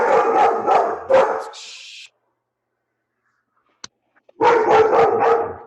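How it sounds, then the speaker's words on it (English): A dog barks in a quick burst of several loud, close yaps, falls silent for a couple of seconds, then barks again in another rapid run of sharp barks. "Sorry about the dog."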